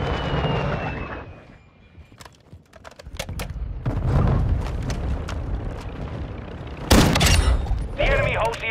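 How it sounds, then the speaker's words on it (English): Mortar strike explosions in Call of Duty Modern Warfare II, a run of heavy booms and blasts with crackling debris, loudest bursts near the end, mixed with battlefield noise and voices. "Hostile mortar strike in the area."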